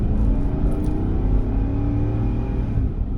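A car engine at full throttle, revving loudly with rising and shifting tones, up close and continuous for a few seconds with no voices.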